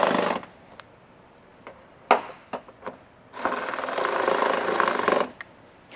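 Bolts are snugged onto a carbon fiber fender flare on a Toyota Tundra with a power tool, heard as a short whir, a few sharp clicks and taps, then a steady buzzing run of about two seconds, close and fairly quiet.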